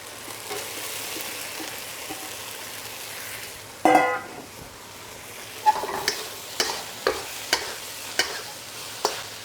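Beef and preserved vegetables stir-fry in a pan over low heat. A steady sizzle runs throughout, a louder crackle bursts as the vegetables go in, and then come a series of evenly spaced scraping taps from the stirring utensil.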